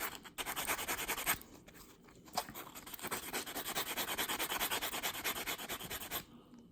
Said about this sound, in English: And finally onto the lightest grade sanding block.